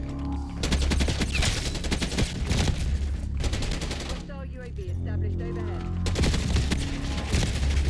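Rapid automatic gunfire in the video game Black Ops 6, with dense bursts and a short lull near the middle before heavy firing resumes. Game sound effects fill the background throughout.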